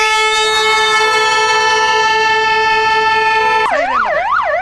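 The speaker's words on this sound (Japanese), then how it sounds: "サイレン" A loud electronic siren on a dump truck at a dump truck gathering event in Okinawa sounds close up, first holding a steady multi-toned blare, then switching to a rapid rising-and-falling wail.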